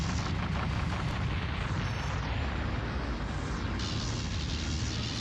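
Dense, continuous roaring blasts fill the Colony Wars space battle, with overlapping explosion rumbles and crackling bursts, loud and sustained throughout.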